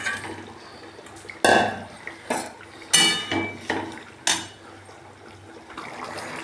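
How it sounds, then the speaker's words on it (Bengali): Fish going into curry gravy in a pan, heard as several sharp clanks and scrapes of utensils against cookware with faint liquid sloshing between them, close and moderately loud, with no talking. "ঝোলে মাছ দিয়ে দেবো।"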